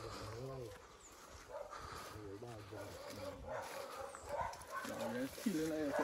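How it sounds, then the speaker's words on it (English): A dog barks and yips in short bursts on a bush walk, moderately close, mixed with people talking nearby. "You can hear that dog, them are going on here."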